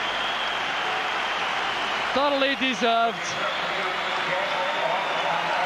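A stadium crowd at the Aberdeen versus Rangers League Cup final applauds a substituted football player, a broad, steady roar of distant clapping filling the ground while a commentator speaks over it briefly.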